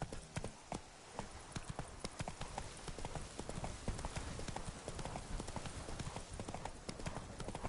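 Horse hooves clip-clop at a quick trot in The Witcher 3, a steady stream of close hoofbeats over a low ambient bed with game background noise.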